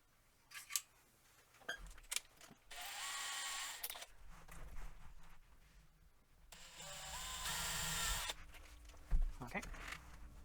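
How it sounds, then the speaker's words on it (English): Two bursts of a small power drill whirring as a small bit bores a starter hole, a couple of seconds each, with light clicks and handling noises between them. "get a little drill bit and we'll just put a starter hole for that"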